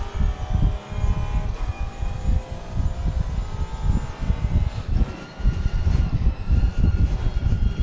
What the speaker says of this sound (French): là, les moteurs vont tourner à fond